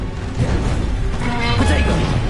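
A Bombarda spell in Hogwarts Legacy lets out a short, dense crash with rumbling impact debris and clattering mechanical noise. A voice calls out over it.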